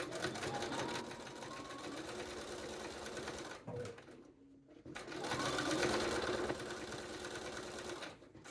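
A sewing machine stitches a long dart on trousers, running loud and steady, pausing briefly near the middle, then resuming its continuous whir until it stops at the end.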